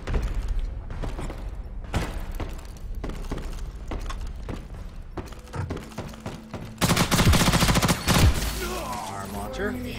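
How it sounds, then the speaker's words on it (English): Video game gunfire with shotgun blasts, loud bursts of rapid shots and impacts spread through the scene, growing denser and louder toward the end. "Fuck that shotgun."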